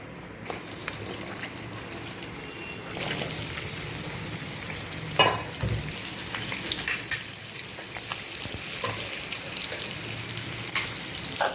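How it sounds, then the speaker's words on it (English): Arbi (taro root) fries in oil in a wok with a steady, dense sizzle that swells louder partway through, with occasional clinks and stirring scrapes close by and no talking. "So first we will fry this Arvis."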